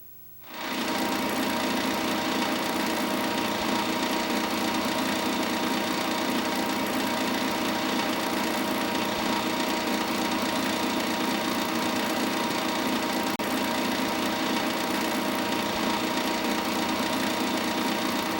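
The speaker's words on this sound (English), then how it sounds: "There is a 1 horsepower variable speed motor which drives the unit." Bearing test rig driven by a 1 hp variable speed motor in a dry-run test of a bearing, starting up abruptly then holding a steady, loud mechanical whir and rapid clatter throughout, with no talking.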